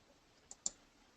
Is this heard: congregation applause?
no